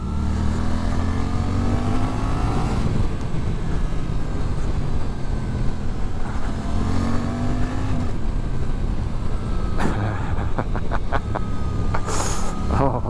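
A Suzuki GSX-8S motorcycle ridden hard on bumpy roads, its engine rising and falling through repeated revs and sharp braking, loud and close with wind rush throughout.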